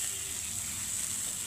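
A wet paste of ginger, cumin, coriander and chilli hitting hot oil in a wok, giving a steady, loud, close hiss of sizzling that holds evenly without pauses.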